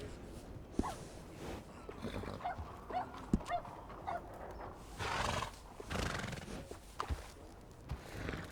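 A horse in the Red Dead Redemption video game neighs and whinnies amid soft game ambience, with occasional thumps and a dog-like whimper, heard faintly and with no talking.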